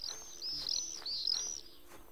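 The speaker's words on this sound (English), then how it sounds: "The birds are very happy." Small birds chirp and tweet in a run of quick, high, bright calls within the game Cradle, moderately near and heard alone against a faint, steady ambient background.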